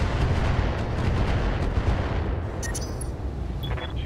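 Heavy mech weapon fire in the BattleTech video game: a loud, sustained rumbling barrage of booming shots that fills the opening seconds, then eases into fainter high metallic pings and clatter.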